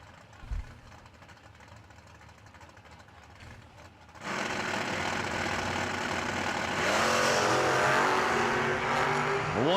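Drag racing engines of a 1986 Ford Mustang and a 1992 Pontiac Firebird: a low rumble at first, then a sudden loud roar as the cars launch, swelling louder and rising in pitch toward the end.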